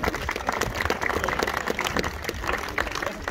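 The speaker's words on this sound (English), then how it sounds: "so another round of applause for this man." A crowd claps in sustained applause, steady and fairly loud throughout, with no pause.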